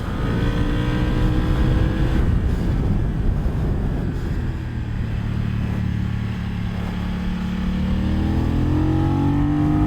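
Motorcycle on Bridgestone Battlax S23 tires at speed on a track with traction control on, its loud engine drone dipping mid-run and then climbing again in pitch as it accelerates, with no speech.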